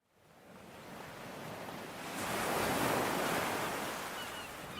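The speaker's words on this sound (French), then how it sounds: "À Biarritz, ils plongèrent dans les plus hautes vagues qu'ils aient jamais vues." Ocean waves in high surf at Biarritz wash in as a steady broadband roar that swells toward the middle and holds, with no voices present.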